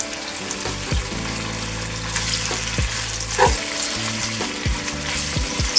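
Collard greens hit a hot pan with a loud, steady frying sizzle, punctuated by sharper crackles and clanks as they are added and stirred, with no voices over it.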